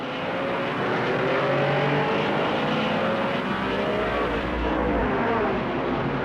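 1960s sports racing cars, including Ferraris and a Maserati Tipo 63, roar past on a race circuit, a loud sustained engine drone that rises and fades as they pass.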